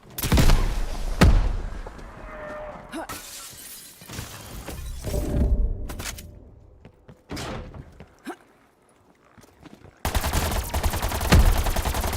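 Rifle fire in the video game Call of Duty: Black Ops Cold War: loud, sharp shots in scattered bursts with echoing tails, a quieter lull midway, then a dense stretch of rapid firing.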